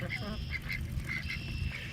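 Ducks on a homestead quacking in a cluster of short nasal calls, fairly near, over a low rumbling background with someone talking.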